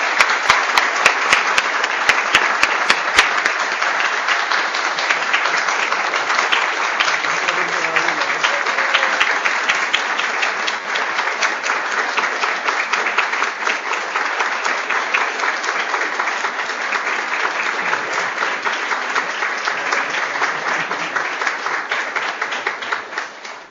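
A large audience at a university department of medicine awards day applauds in a sustained, dense roar of clapping that holds steady and loud throughout before tapering at the end.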